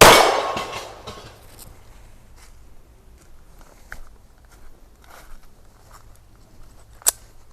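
Ruger Security 380 pistol fired at a target 10 yards away: a loud, sharp report at the start that decays quickly, followed by faint scattered clinks and a brief bright metallic ping near the end. No voices.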